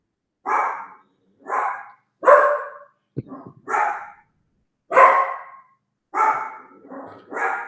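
A dog barks in a home, about eight loud, close barks spaced roughly a second apart with clean silence between them, one shorter and lower.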